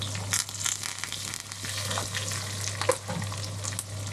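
Onions and curry leaves sizzle and crackle steadily in hot oil in a pan for tempering spinach dal, with an occasional stir and a faint low hum underneath.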